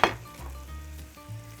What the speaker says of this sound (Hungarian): Sózom is a hagymát, amikor dinsztelem